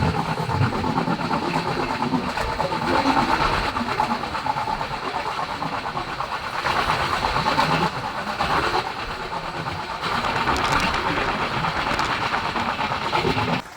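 A train on the Konkan Railway passing through Goa makes a steady, loud rumble and rattle of running wheels and carriages, heard from on board for the whole stretch with slight swells in intensity.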